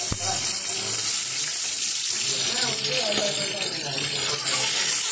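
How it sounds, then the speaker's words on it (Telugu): Fried fish in hot oil sizzles loudly and continuously as the pieces are lifted out for a fish curry, a close, dense hiss throughout. "చేపలు అయిపోయినాయండి, తీరేస్తున్నాను."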